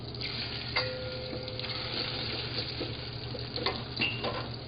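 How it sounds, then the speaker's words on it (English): A scallop sears in a little butter in a hot saute pan, giving a steady, moderately loud sizzle with a few brief clinks and scrapes from utensils riding over it. "You want to sear it for about 2 minutes on each side."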